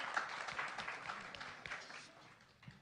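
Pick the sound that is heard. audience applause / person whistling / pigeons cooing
audience applause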